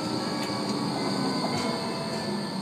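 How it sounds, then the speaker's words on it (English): A city tram passes close by on its rails with a steady heavy rumble and wheel squeal, and no one speaks. "Here's the tram."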